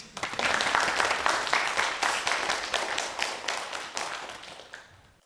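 Lecture audience at a Korean humanities talk on the independence movement claps in a brisk, close burst of many hands that holds for several seconds, then thins out and fades to silence.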